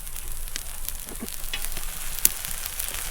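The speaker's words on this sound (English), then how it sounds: "Onions are starting to sizzle." Close, steady sizzling and crackling of onions and peppers frying on a hot grill, with scattered sharp pops and no voices.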